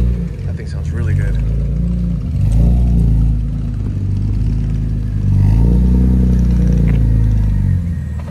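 A BMW M3 on Advent RG2 wheels at a car meet, its engine rumbling low and close with swells of revving and a steady idle, while people talk nearby.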